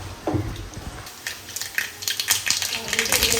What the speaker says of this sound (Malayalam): നമുക്ക് വെളിച്ചെണ്ണ ഒഴിച്ചു കൊടുക്കാം